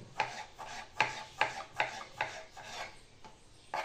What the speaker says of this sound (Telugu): ఆ తర్వాత టమాటాలు కట్ చేసుకుందామండి